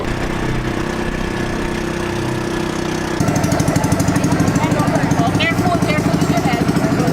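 A tour boat's engine heads toward Sohoton Cove in the Philippines, first as a steady hum and then as a loud, close, rapid chugging. Someone talks over it.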